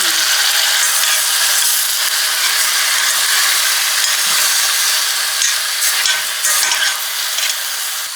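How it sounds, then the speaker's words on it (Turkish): A spoonful of tomato paste sizzles in hot olive oil in a pan as the base for a leek dish, a steady, bright frying hiss with faint stirring scrapes and no talk. "Bir yemek kaşığı şöyle domates salçası ekliyorum. 1-2 dakika kavuracağız."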